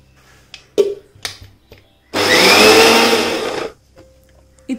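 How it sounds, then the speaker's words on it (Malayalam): Kitchen mixer grinding ground paste with added water for chickpea curry: a few knocks and taps, then one loud, steady whirring burst of about a second and a half that stops abruptly. "അതൊഴിച്ചിട്ട് നന്നായിട്ടൊന്ന് അരച്ചെടുക്കാം."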